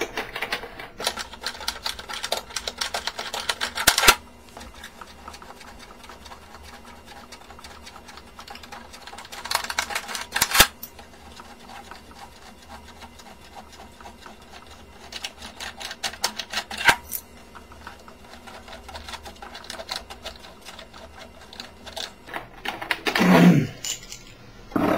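Screws being removed from a Promethean amp head: scattered close clicks, ticks and metallic taps over a steady low hum, with sharper clattering bursts at intervals and near the end.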